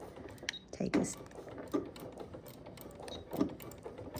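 A sewing machine stitches a few stitches into the corner of a baby quilt, heard as a quiet mechanical whir with brief bursts of clatter, close by.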